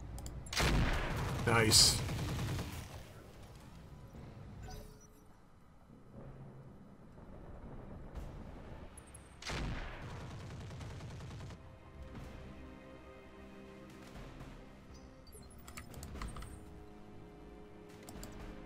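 Mech weapons firing in the video game Roguetech, with loud bursts of gunfire and impacts early on, then further shots and mechanical rumbles mixed with game music and brief speech.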